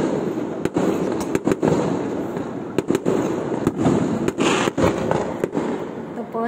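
Fireworks display on Christmas night: repeated sharp bangs and crackling bursts pop at irregular intervals over a continuous rumbling wash of distant explosions and crowd noise.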